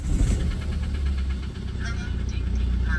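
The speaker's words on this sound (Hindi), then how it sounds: "अभी गाड़ी स्टार्ट करके देखते हैं पहले" A car in a workshop, recently repaired and with a lingering knocking fault, is started and left idling: a close, steady engine rumble with a slightly uneven throb throughout.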